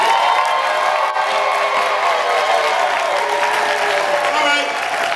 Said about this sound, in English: let's have another round of applause for these figures who've done so much for gospel